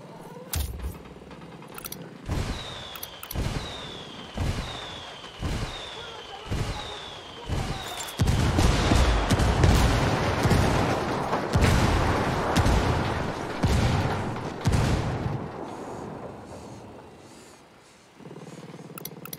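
Gunfire in the tactical shooter Ghost Recon Wildlands: evenly spaced sharp shots for several seconds, then a dense, sustained barrage of loud overlapping blasts, with voices talking over it.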